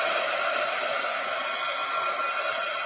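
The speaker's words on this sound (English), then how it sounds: "I'm just going to turn the heat tool on for a little bit" A handheld craft heat tool blows hot air steadily to dry paint, a close, loud, even whooshing hiss that holds without a break.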